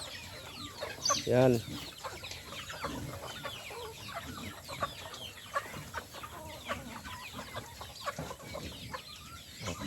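Many chickens cluck and chatter nearby in a continuous busy flock, with one louder squawk early on and a brief spoken word.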